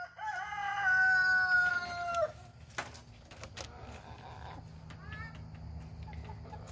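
Chickens at a backyard coop give a loud, drawn-out crowing call for about two seconds, followed by softer scattered clucks and faint rustling.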